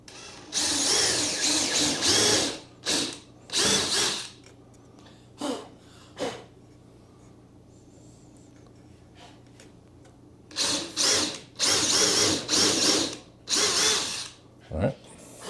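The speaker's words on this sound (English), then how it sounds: "we're pre-drilling, and we're going to countersink these" A power drill pre-drills and countersinks holes in a wooden bed frame in a garage, with a string of short, loud whirring bursts of varying length separated by quiet pauses.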